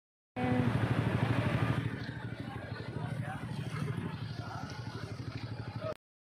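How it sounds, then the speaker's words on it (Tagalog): A motorcycle engine putters loudly up close then fades slightly as it passes, with a steady pulsing rhythm, and voices chatter faintly in the background. "Uy, may motor."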